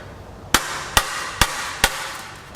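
Five sharp hammer blows land at an even pace, tapping a part into place while a GM 5.3 Vortec LC9 aluminum Gen4 V8 is torn down after blowing up; the strikes are close and loud, with quiet in between.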